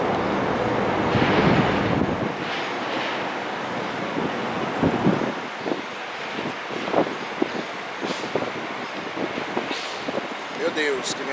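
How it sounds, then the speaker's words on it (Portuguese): Strong wind buffets the microphone at a bus station in Uberlândia, a loud broadband rush through most of the clip with gusts, while a person talks intermittently over it. "Meu Deus, que vento é esse?"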